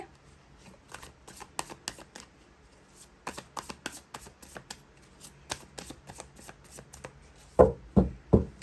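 Tarot cards are shuffled by hand in a quick series of crisp riffles and taps, followed near the end by a few louder slaps as cards are drawn and laid down, close and clear with no voices.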